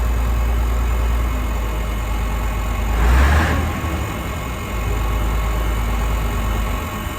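A large Leyland Atlantean diesel bus engine idles with a steady low throb, briefly joined by a hissing burst of air midway.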